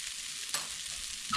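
Garlic and flour fry in a hot skillet with a soft, steady sizzle, broken by a sharp stirring scrape midway and a louder scrape at the end. No one speaks.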